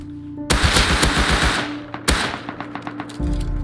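AK rifle fired in the video game Rust, with two loud, close bursts of rapid automatic gunfire, each about a second long, separated by a short pause and followed by scattered trailing shots.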